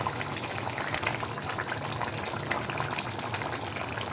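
Potato curry bubbling in a pot, a steady wet burble and hiss, low and close with no voices.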